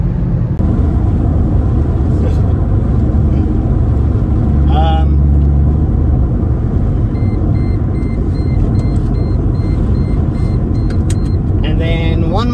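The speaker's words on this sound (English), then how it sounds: "all the boost to do a burnout." Turbocharged M104 engine in a Mercedes W203 C-Class straining loud and continuous through an attempted burnout, a steady roar filling the whole stretch with slight shifts in pitch and no talk.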